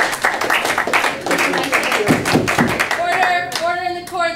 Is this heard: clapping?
yes